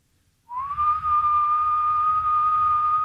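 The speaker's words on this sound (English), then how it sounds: "Big, long fucking whistle." One long, steady whistle in a horror film scene, rising briefly at the start and then held clear and unbroken for over two seconds against quiet background.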